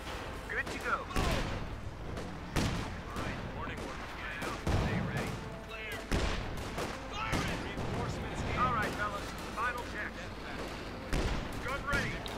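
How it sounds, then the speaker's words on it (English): Gunfire and explosions from a Company of Heroes 2 match, with rifle squads and paratroopers fighting, heard as repeated sharp bursts and heavy booms under a caster's ongoing commentary. "More shooting there."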